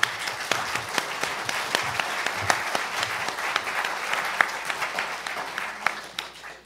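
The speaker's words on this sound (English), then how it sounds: "Thank you very much for your kind applause" An audience applauds at a talk on the legal battle against Israeli settlers, a dense, steady round of clapping from a medium-sized crowd with sharper individual claps standing out, fairly distant and without voices.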